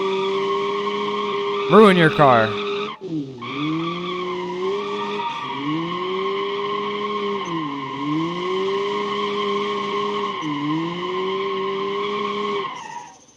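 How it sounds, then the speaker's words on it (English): Handbrake burnout in the BeamNG driving game: a loud burst of tire squeal and skidding near the start, then a steady engine drone with repeated revving swells until the end, with someone talking over it. "Oh, yeah, handbrake burnout."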